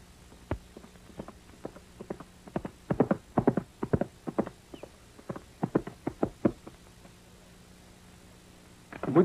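Horse hooves clip-clop at a walking pace in irregular clusters of sharp knocks on a hard surface, fairly close, over a quiet low hum with no talking.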